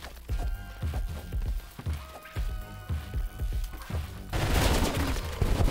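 Bombs going off in the game ROUNDS: a rapid string of sharp blasts and pops in uneven bursts, ending in a louder, noisier rumble of explosions.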